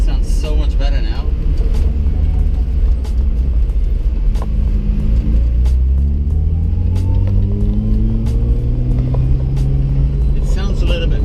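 A car engine fitted with a new exhaust revs and rumbles loudly and close, its deep drone rising and falling steadily with a few sharp clicks on top.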